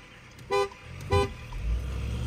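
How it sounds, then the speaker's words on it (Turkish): Two short, loud car horn toots sound about half a second apart as a start signal, over a low idling engine rumble that swells afterward. "Aybars 3. kornada basıyoruz."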